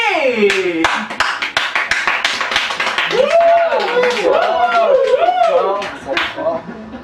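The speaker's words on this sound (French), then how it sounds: "je vous demande d'applaudir ici sur le plateau d'Avisba TV" Applause from the audience on the Avisba TV studio set welcoming a guest, scattered claps under a lively voice speaking over them, with a rising melodic tone and cheering cutting in midway.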